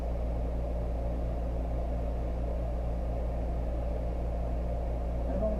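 A wood lathe spins a freshly glued two-piece turning blank, giving a steady, unbroken low motor hum with a faint rhythmic flutter, close and moderately loud, with no talking over it.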